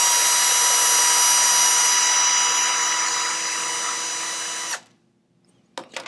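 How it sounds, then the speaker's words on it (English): Power drill boring through soft plastic to widen a hole while pressed down, a loud steady whine lasting nearly five seconds before cutting off, followed by a couple of faint short clicks. "What I'm doing is I'm drilling it and I'm pulling down, putting down pressure on it."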